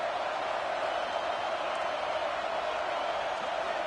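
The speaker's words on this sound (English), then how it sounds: "Here comes the noise from this big crowd in Happy Valley on third down." Roar of a big stadium crowd in Happy Valley during a college football video game, a dense, steady wall of noise on third down with no breaks.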